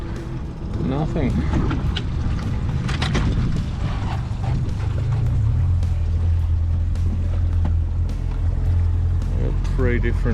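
An outboard motor hums steadily at low trolling speed on Lakefield's Kalpowar Crossing, a deep continuous drone close by, while someone talks over it.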